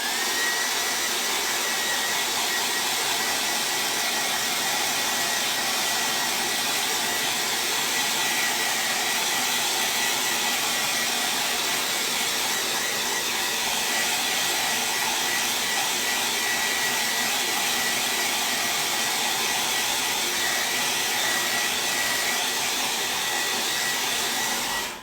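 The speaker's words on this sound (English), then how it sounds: "I like to pass the blow dryer over it" A blow dryer runs continuously at a loud, steady whoosh for the whole stretch, with a constant airy hiss and no pauses or voices.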